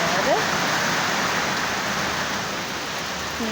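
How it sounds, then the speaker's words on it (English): Steady rain pours down outside an open window in a rain storm, a dense continuous hiss that stays loud and even throughout, with brief faint birdlike chirps near the start. "the rain's coming down"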